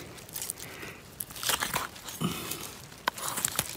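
A knife works through the ball joint of a whitetail deer's leg during field quartering, giving soft, irregular crunching and crackling close by, quiet and without talk.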